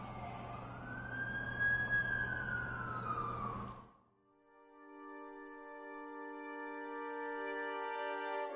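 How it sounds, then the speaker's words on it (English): Ambulance siren in a Spider-Man video game, a loud wailing siren sweeping over a low engine drone, then cutting off and giving way to a steady tonal chord. "That's the ambulance I called."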